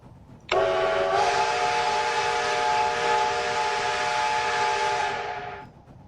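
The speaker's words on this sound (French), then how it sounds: "J'ai entendu le klaxon de notre train." A train horn in the Roblox railway game Terminal Railways sounds one long, loud, steady blast with a sharp onset that lasts about five seconds before fading, with no talk over it.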